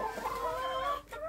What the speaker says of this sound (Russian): вот петушок арпингтон.